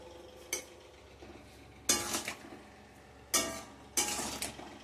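A spatula scrapes and stirs a pan of Bengali chana dal fritter curry, with coriander leaves just added, in several short, close bursts separated by quieter pauses.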